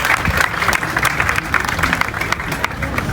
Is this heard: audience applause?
yes